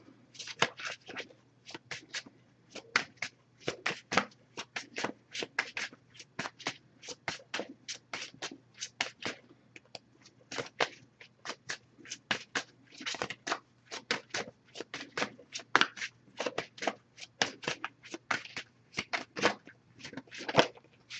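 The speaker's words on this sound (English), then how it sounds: "We're just going to be pulling a single card from this deck." An oracle card deck being shuffled by hand, a long run of quick, crisp riffling bursts repeating in close succession, near and clear with no talking.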